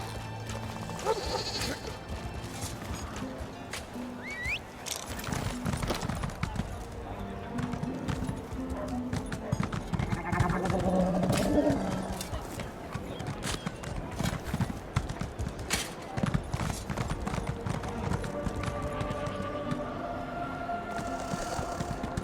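Horse hooves clip-clop in a steady rhythm in the video game Elder Scrolls Online, continuous for the whole stretch, with sheep or goat bleats and a brief whinny mixed in.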